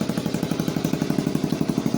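A 1980 Honda Mini Trail 70 idles without choke, its small engine putting in a quick, even, close rhythm with no talking.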